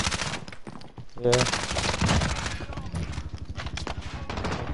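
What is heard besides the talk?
gunfire from Call of Duty video game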